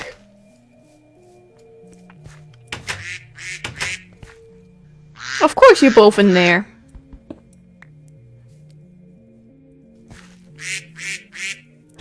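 Minecraft ducks give a few clipped quacks with synthetic game music running underneath, and a person talks over part of it.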